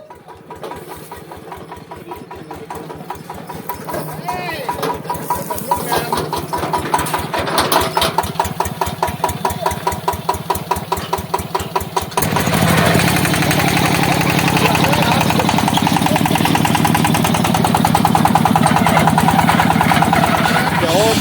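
Modified farm tractor engine running close and loud, first a rhythmic thumping idle, then revving into a dense, steady roar from about midway; someone talks in Thai over it.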